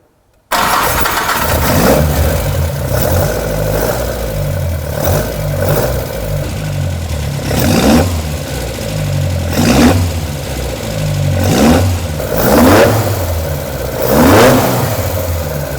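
A Ford Escort Mk1 engine cranks and catches on a rolling road dyno, then revs in repeated loud bursts that rise and fall over a steady idle, close and continuous with no voices.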